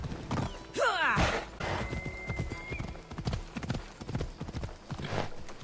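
A horse's hooves clip-clop in a fast steady rhythm in Assassin's Creed Odyssey, close and loud, with a neigh near the start and faint game ambience underneath.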